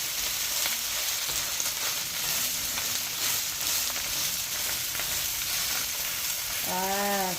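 Food for a non-vegetarian birthday feast fries in a pan at home with a loud, continuous sizzling hiss held close throughout, and a brief voice sounds near the end.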